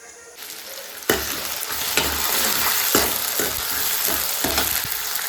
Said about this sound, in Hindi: तो फटाफट से छौंकती हूँ दाल।